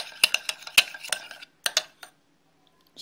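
A utensil stirring homemade slime in a bowl gives a run of sharp clinks and taps, quick and irregular, then a pause before a few more knocks near the end.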